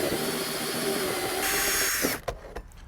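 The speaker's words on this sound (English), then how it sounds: "I need to go ahead and drill a new hole" A power drill bores a new hole through vinyl house siding and sheathing, a continuous high whining grind at steady pitch that stops abruptly near the end, followed by a few faint clunks.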